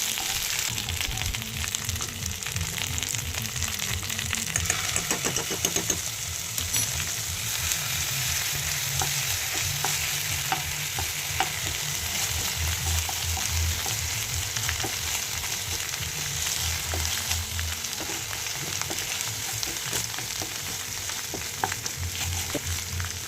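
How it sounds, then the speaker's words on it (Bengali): Rohu fish pieces frying in oil with ginger paste, a steady loud sizzle throughout with repeated stirring and scraping in the pan, close and continuous, no talking. "একটু নেড়ে চেড়ে নিয়ে দিয়ে দিলাম এক চামচ আদা বাটা"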